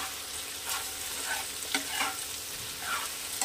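Ginger garlic paste stirred and frying in a pan for a Bengali fish curry: a quiet, continuous sizzle broken by soft scraping strokes of a spoon at irregular intervals, close by with no voices.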